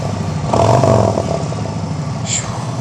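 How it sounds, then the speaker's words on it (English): A Harley-Davidson Street Glide Special with a Milwaukee 8 engine and slip-on exhaust: a single quick throttle blip swells over a loud idle, then settles back to a steady, throaty rumble. "Let's give it a little throttle blip."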